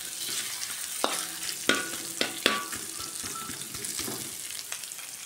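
Ingredients for sambal belacan fry in a pan with a constant sizzle, broken by several sharp scraping and stirring clacks of a utensil against the pan.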